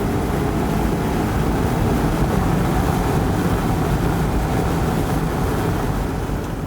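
A Mazda MX-5 RF roadster's engine revs toward 7,500 rpm, heard as a loud, steady, broadband engine and road roar that holds evenly for several seconds without talk.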